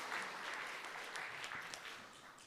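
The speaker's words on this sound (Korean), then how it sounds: "우리 찬양대 박수해 주시고요." A congregation at a Korean church's Sunday service applauds the choir: a steady, soft wash of many hands clapping, fairly distant and continuous throughout.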